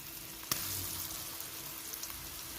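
Grated mango goes into warm spiced oil for pickle, giving a soft, low hiss and faint sizzle with one sharp tap near the start, quiet and steady throughout.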